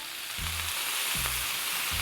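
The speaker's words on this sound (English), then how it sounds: "Hear that sizzling? It's steaming." Water poured onto a hot Blackstone griddle sizzles and steams in a steady hiss, with a low sputtering burble pulsing underneath a few times, close up and without speech.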